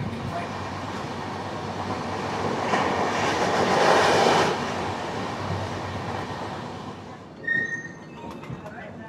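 The Sealdah–Jammu Tawi Humsafar Express rumbles along the rails in a steady close roar that swells mid-way and then eases, with faint rattling and a few brief high squeals near the end.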